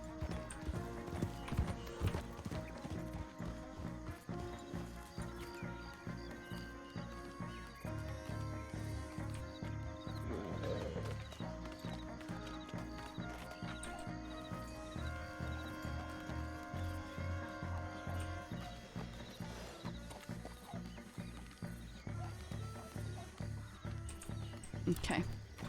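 Rhythmic horse hooves clip-clopping in the video game RedM, a steady trotting beat running under continuous background music with an occasional whinny.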